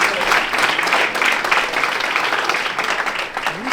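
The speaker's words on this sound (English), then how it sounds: "Another round of applause for that suit, ladies and gentlemen" Sustained audience applause fills a boxing and combat sports awards event in Oklahoma, steady and dense throughout, with a crowd voice or two faintly mixed in.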